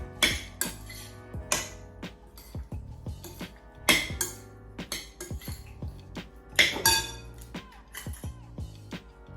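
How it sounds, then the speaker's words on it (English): Shrimp for Cajun shrimp scampi is stirred in a pan: irregular sharp metallic clinks and knocks of a utensil against the pan come close and clear over quieter scraping, with no talking. "Then we'll be going in and stirring up the shrimp."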